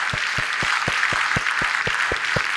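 Steady rhythmic clapping at a vegetarian congress, evenly spaced single claps about four per second, moderately loud and continuous with no voices.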